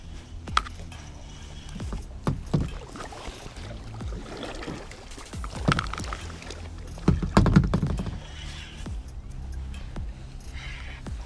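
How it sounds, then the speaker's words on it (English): Kayak paddle strokes on a flooded backwater while fishing, soft irregular splashes and knocks against the hull, close by and fairly quiet, with a slightly louder flurry of strokes partway through. "I was trying to paddle myself back because I felt like I was getting too close"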